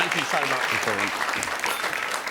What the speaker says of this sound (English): Round of applause here, ladies and gentlemen.